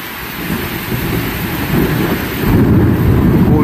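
Heavy thunder rolls through a rainstorm over Athens, a loud deep rumble over a constant rush of rain that swells stronger near the end.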